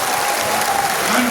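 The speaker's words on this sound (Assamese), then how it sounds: "আপোনালোকে এটা হাত চাপৰি মাৰক, নিজৰ কাৰণে" An audience at the 17th TMPK general conference in Jonai applauds, a dense and steady clapping that fills the clip, close and loud, with a faint voice or tone over it.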